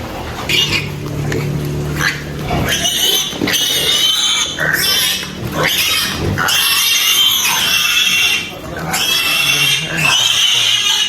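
Pigs in a pen grunt and squeal loudly and continuously, with many animals calling over one another close by and a voice speaking briefly at times.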